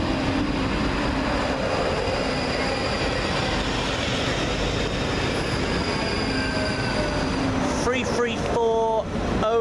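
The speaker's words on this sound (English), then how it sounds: "Well, of course the other train's coming in." A ScotRail train rolls into Glasgow's High Street station with a loud continuous rumble and rail noise, wheels squealing with rising tones near the end as it slows.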